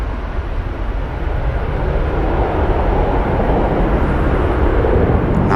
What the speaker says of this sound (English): Nice noisy departure from the BA